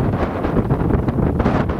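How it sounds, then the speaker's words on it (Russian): Strong wind roars and buffets the microphone outdoors near open water with waves in Svisloch agrotown, a steady, loud, low rumble with gusty swells and no voices throughout. "так как сегодня сильный ветер"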